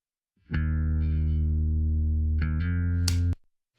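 A single bass guitar note rings out clean and steady as a direct DI signal, then the same note continues through an amp with a fuller, grittier tone before cutting off.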